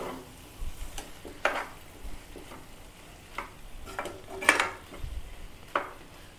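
Mutton liver fries in oil in a pan, a low steady sizzle punctuated by repeated scraping and stirring clatters of a utensil against the metal, close and moderately quiet.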